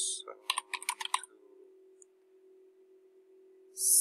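Quick keystrokes tap out a short search on a computer keyboard, close and crisp, then a steady hum for a couple of seconds before a burst of hiss.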